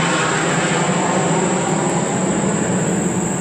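A loud, steady roar of an aircraft passing over near an airport fills the whole span, a broad continuous rumble with a constant high whine on top, with no talk.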